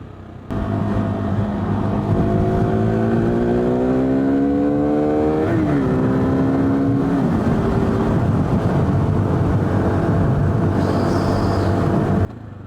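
A KTM 390 Duke motorcycle rides along a road, its engine droning loud and close, revving upward through the gears with a shift midway before settling back to a steady running note.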